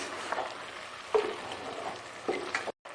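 Homemade carrot murabba being mixed in a pan, with a steady low sizzle and a few louder scraping knocks from the spoon; no talking.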